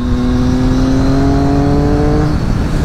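A Triumph Daytona 675 three-cylinder sport bike of about 130 hp, fitted with an air filter and a decat Arrow exhaust, revs loudly and steadily close by, then the engine note drops away near the end.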